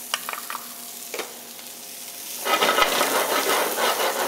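Celery and then onions hit a thick, flat-bottomed skillet and begin sautéing, with a loud, steady sizzle rising midway after a few light scrapes of a dry wooden spoon stirring the vegetables.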